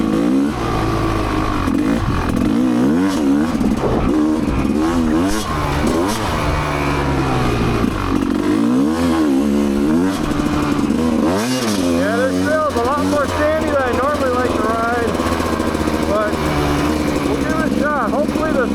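An off-road vehicle engine revs steadily in fourth gear along a wooded ORV trail, a loud continuous drone with wavering pitch as throttle rises and falls, close to the rider throughout.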